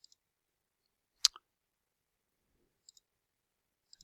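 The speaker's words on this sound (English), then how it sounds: "So I'm going to click on this." A computer mouse gives one sharp click with a faint second click, plus a few very soft ticks around it, in a quiet room.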